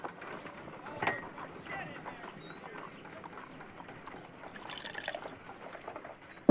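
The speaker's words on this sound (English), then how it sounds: "If I wish to shape the ice knife, then I need to pour water inside the mold." Water pours into an ice knife mold in the Sherlock Holmes: Crimes & Punishments video game, a soft, steady liquid trickle with faint drips, quiet and continuous for several seconds.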